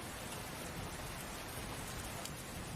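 Steady rain falls on a surface, a dense, even patter holding at the same faint level throughout with no voices.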